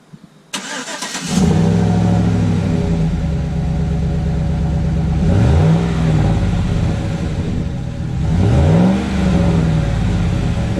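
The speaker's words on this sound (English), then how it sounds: "Here's a quick cold start with the stock exhaust." A Chevy Silverado's 5.3L V8 with stock exhaust cold-starts, cranking and firing up, settling into a deep, quiet, steady idle with two brief revs swelling up later on; no talking.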